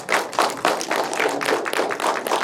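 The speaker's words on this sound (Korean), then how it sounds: "큰 박수 부탁드리겠습니다" Applause from the press corps at the close of a Jeonju International Film Festival opening-film press conference, a dense patter of many hands clapping steadily throughout, fairly loud and close.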